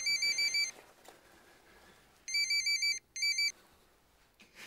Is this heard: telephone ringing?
yes